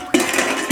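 Metal pots and dishes being handled in a rural kitchen, two sharp clanks of metal on metal with a short rattle between, close and alone.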